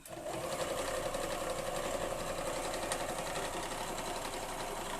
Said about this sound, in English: I'm actually only sewing through one block.